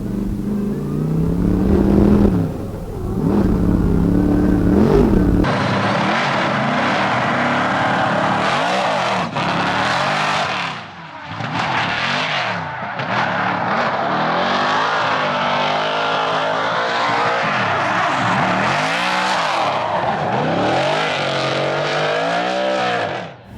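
A Ford Mustang RTR drifting with handbrake pulls: loud engine revving in repeated rising and falling sweeps, up close and sustained, with brief dips between pulls and a quieter roar at the start.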